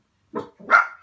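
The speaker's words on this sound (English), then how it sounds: "That's just my dog." A pet dog gives two quick barks close by indoors, the second louder and longer, with silence around them.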